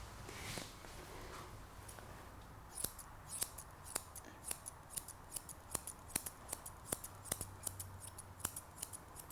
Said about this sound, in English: so I'm going to get my curved scissors